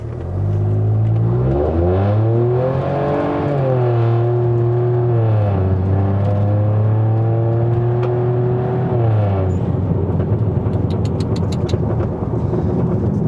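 A 2025 Proton X50 pulling hard at full throttle with the air conditioning switched off, the engine climbing loudly through the revs in two rising sweeps with a gear change between them, then easing into rumbling road and wind noise.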